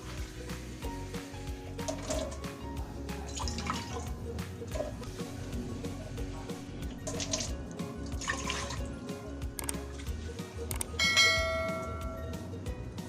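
Water poured into a rice cooker pot, a continuous trickling and splashing with ringing metallic resonances, close by and steady, swelling briefly near the end.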